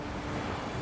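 Dark, stormy sea with a steady rush of surf and wind roaring over it, a continuous broadband wash without a break, loud and close.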